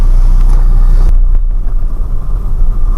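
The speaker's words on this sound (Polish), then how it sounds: "To ja pojadę samochodem, nie?" Car driving, a loud, steady low rumble of engine and road noise heard from inside the cabin, with no voices.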